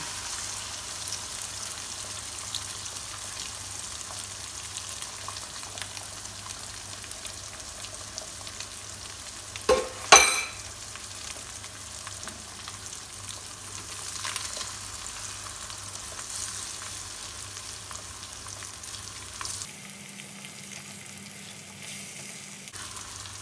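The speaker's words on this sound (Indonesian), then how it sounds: "Sambil diaduk-aduk seperti ini, nanti lama-lama jadi orak-arik, telur orak-arik." Beaten eggs frying in a pan and stirred into scrambled eggs for Indonesian village-style fried rice. A soft, steady sizzle continues for a long stretch, with a couple of sharp clicks midway and a change in tone near the end.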